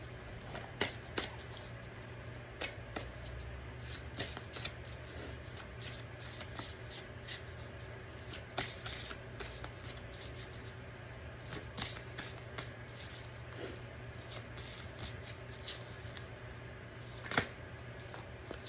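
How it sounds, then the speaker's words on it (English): A deck of cards being shuffled before one card is pulled, soft repeated riffles and flicks of card edges in a quiet room, faint and close throughout. "So we're going to pull one card."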